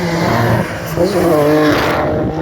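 A heavy 3.5-ton race vehicle climbs a hill climb course, its engine note rising steadily and loud throughout, with a possible faint voice beneath.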